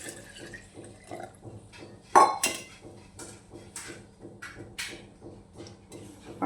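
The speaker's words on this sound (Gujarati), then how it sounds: "એમાં આપણે આ પાણી નાખવાનું છે।" Water is poured into a jug holding bael fruit pulp for juice, with clinks of a utensil against the container and soft splashing in short bursts. A quiet room surrounds the sound.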